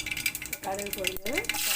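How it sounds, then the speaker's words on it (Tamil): Mustard seeds crackling and popping in hot oil in a pan for a Kongu-style dal rice, a close, busy sizzle with quick snaps over a brief moment. "கடுகு பொரிஞ்சது"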